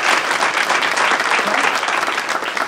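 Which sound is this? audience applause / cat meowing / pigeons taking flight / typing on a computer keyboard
audience applause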